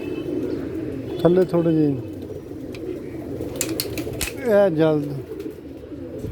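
Pet pigeons perched on top of a wire cage coo in two distinct throaty rolling bursts, close by, with someone speaking intermittently over the steady background.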